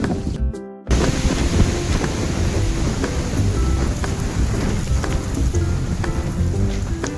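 Strong wind sweeps across an open temple courtyard, roaring and buffeting the microphone in a loud continuous rush with no voices.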